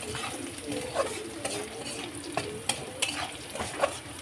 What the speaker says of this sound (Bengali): এখানে পেঁয়াজ, রসুন আর শুকনো মরিচ আগে একটু ভাজা করে নিচ্ছি